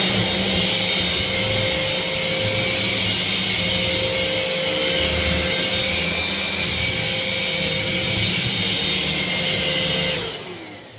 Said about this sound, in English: if I press the brush bar for you now as well, then you can just see how that works